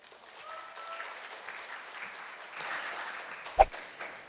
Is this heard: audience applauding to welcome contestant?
yes